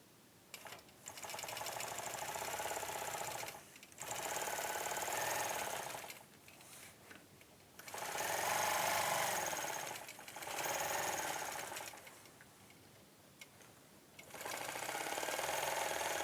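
Sewing machine stitching the basic framework of a quilt along a ruler, running in loud steady bursts of a few seconds each, separated by brief pauses as the fabric is repositioned.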